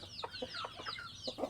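Local village chickens in Ilam cluck in a quick, uneven series of short calls, several birds close by and fairly loud, with no voices.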